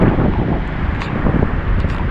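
Strong typhoon wind gusts in a continuous loud rushing roar battering the microphone, with a few faint higher sounds briefly poking through, and no speech.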